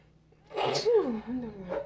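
One short sneeze, close and clear, followed by a brief voiced sound.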